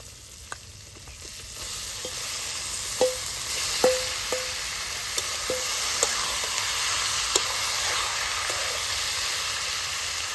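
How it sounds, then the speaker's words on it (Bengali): Cut Chinese duck meat dropped into hot oil with fried-down spices, a steady loud sizzle and hiss with scattered light clinks of a spoon against the pan, nobody talking. "এখন আমি দিয়ে দিব কেটে রাখা মাংসগুলি।"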